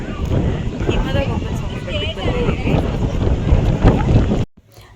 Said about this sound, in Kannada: ಅಲ್ಲಿ ಮಾತಾಡೋಕ್ಕೆ ಗಾಳಿ ಇರೋದ್ರಿಂದ ಮಾತಾಡೋಕ್ಕಾಗಲಿಲ್ಲ ನನಗೆ